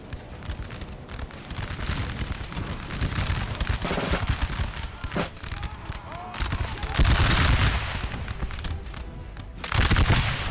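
Massed musket volleys from infantry lines in the game Napoleon Total War crackle in dense, overlapping bursts, with heavier swells of fire near the middle and the end. The battle noise runs loud and continuous, with a faint voice somewhere in the mix.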